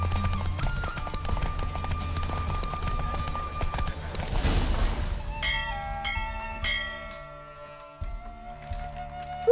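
In The Witcher 3, a horse's galloping hooves clip-clop steadily under game music and chiming bell-like tones, with no voices.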